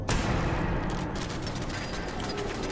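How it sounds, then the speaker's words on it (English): A pipe shotgun fires in the Fallout 4 video game, giving sustained, dense blasts of gunfire that stay loud from start to finish, with no talk. "But my pipe shotgun was doing the job."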